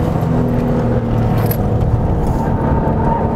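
A Subaru GT 2000 engine runs loud and close with a steady, dense rumble and no clear rise or break, and there is no talking over it.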